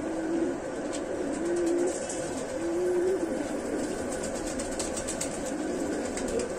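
Chandakhani Patthara pigeons cooing in the evening, a run of low, rolling coos repeated every second or so over a steady, busy background hum.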